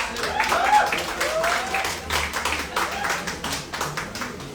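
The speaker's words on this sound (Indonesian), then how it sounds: "boleh minta tepuk tangannya dong?" Applause and scattered clapping from an audience at a live event in Indonesia, steady and fairly loud through the whole stretch, with voices and a whoop audible over it.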